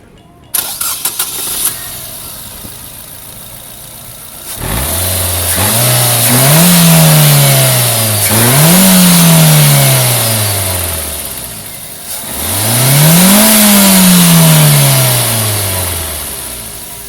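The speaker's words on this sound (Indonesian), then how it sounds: "Kita pengen coba dengar juga suara mesinnya kayak apa, karena kan mobil base spec seperti ini mesinnya sendiri udah 4 silinder" A Nissan Almera's 1500cc four-cylinder HR15DE engine cranks and starts, then revs up and down in three rising and falling sweeps before settling back toward idle, loud and close.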